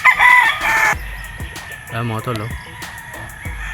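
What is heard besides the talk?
gamefowl rooster crowing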